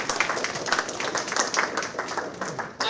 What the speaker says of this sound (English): Please applaud it.